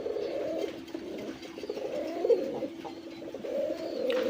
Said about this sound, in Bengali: দেখেন, আমার মাদিও ডাকে